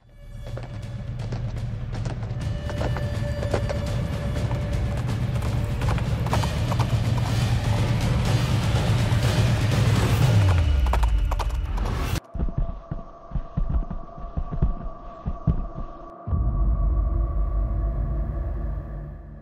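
Horses gallop with stunt riders in training for the World Nomad Games, a steady drumming clip-clop of hooves under a loud, continuous hum that suddenly drops away, leaving scattered hoof thuds and rumbling.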